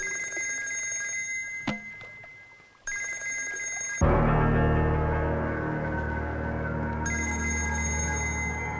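A telephone rings for an incoming call in loud, repeated bursts of ringing, heard clearly with no talk over it.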